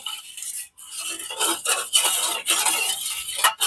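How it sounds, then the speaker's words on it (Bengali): A utensil stirs salt into milk in a bowl, producing brisk repeated scraping and swishing strokes with short pauses, close and fairly loud. "লবণটাকে দুধের সাথে মিশিয়ে নিচ্ছি"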